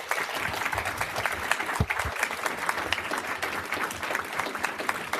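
An audience at a town meeting in Cheverly, Maryland applauds, with dense, steady clapping from many hands sustained throughout, close and fairly loud, with a few faint voices mixed in.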